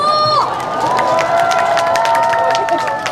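A crowd cheers and shouts steadily, with overlapping voices and some scattered clapping, lively and fairly close, at an outdoor concert during the Gimhae Hanwoo Festival.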